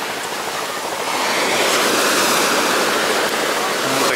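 Small sea waves wash onto a beach in Alanya, Turkey, making a continuous broadband hiss. The surf swells louder after the first second and a half, then holds steady and close.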